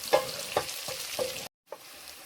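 Chicken masala pieces with curry leaves frying in a pan, stirred in several close scraping strokes over a soft sizzle, then a brief gap before another stroke; no talk.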